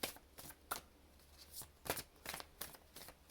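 Thoth tarot deck cards being shuffled by hand close up, a series of quick papery riffles and slaps in irregular bursts over a quiet background.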